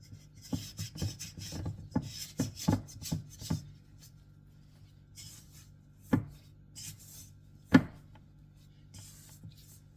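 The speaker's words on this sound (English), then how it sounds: "I fold so you can get the flour from the bottom. Scrape the edges and fold it." Bread dough being scraped and folded in a bowl, a cluster of short close scraping and tapping strokes early on, then sparse isolated knocks with quiet gaps between.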